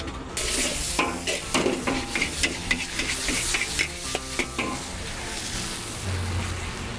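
Mee goreng mamak noodles sizzle in a wok over a low flame at a street stall, with a steady fry beneath repeated metallic scrapes and clanks of the spatula as the noodles are stirred.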